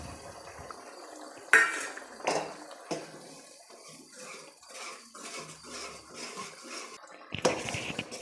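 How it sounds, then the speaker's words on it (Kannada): Fried okra goes into a pot of simmering Karnataka-style okra huli curry with metallic clinks, a few sharp knocks and soft wet splashing and stirring, close and moderately quiet. "ಈಗ ನಾನು ಬೆಂಡೆಕಾಯಿನ ಸೇರಿಸ್ತಾ ಇದ್ದೀನಿ."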